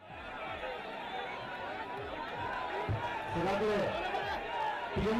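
A dense, bustling crowd at an election campaign event for VS Achuthanandan keeps up a steady babble of many overlapping voices, with louder shouts and movement swelling toward the end.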